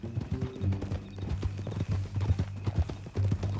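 Horse hooves clip-clop steadily in Red Dead Redemption 2, a close, continuous rhythmic beat of shod hooves on hard ground, heard alone with no talk.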